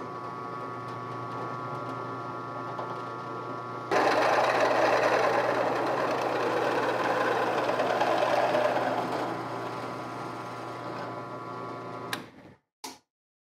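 A drill press machines an aluminum stompbox enclosure, with a board clamped and cantilevered off the end of the press; a steady motor hum jumps into a louder, rougher cutting roar midway, then cuts off abruptly near the end.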